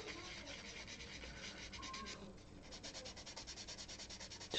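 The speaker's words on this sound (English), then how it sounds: "just using a 2000 grit sponge" A 2000 grit sanding sponge rubs back and forth over a model kit surface, a steady close scratchy swishing with a brief pause midway, then quicker rhythmic strokes.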